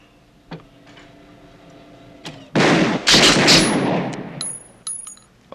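Gunfire in a police drama: a sharp shot or two rings out early, then a loud sustained burst of several rapid shots around the middle, with a few more clipped shots trailing off afterward; no talk.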